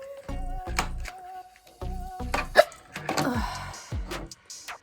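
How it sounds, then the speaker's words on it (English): Repeated short hiccups from a person, several sharp vocal jerks spaced through the clip, close and fairly loud, with some talking mixed in. "Guys, I have hiccups."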